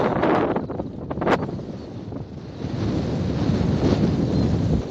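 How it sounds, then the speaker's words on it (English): Heavy wind buffeting a microphone outdoors on Dartmoor, a continuous low rumbling roar with gusts rising and falling, no voices. "And sorry about the wind."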